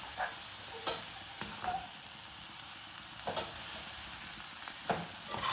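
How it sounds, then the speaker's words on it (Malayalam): Pumpkin leaves stir-frying in coconut oil for a thoran, a continuous close sizzle with irregular scraping stirs of a spoon against the pan, no talking. "ലേശം കൂടെ വെളിച്ചെണ്ണ ഒഴിച്ചു കൊടുക്കുവാണ് ഇപ്പോൾ"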